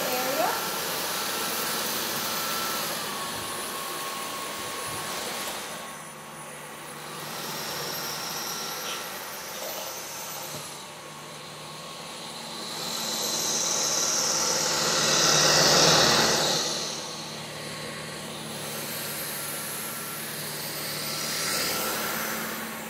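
Dyson V15 Detect cordless vacuum running steadily on a hard floor, a continuous motor whine with shifting pitch and a louder surge midway, close and sustained, with faint speech at moments.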